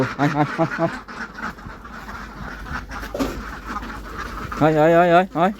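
Ducks quack inside a lit shed, with bursts of loud, close quacking at the start and near the end and someone talking over and between them.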